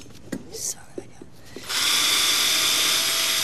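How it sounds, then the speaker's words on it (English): A power drill runs steadily and fairly loud in a home renovation setting, starting after a few brief knocks and a whispery sound, then holding a constant whirring tone to the end. "I realize Simon is drilling"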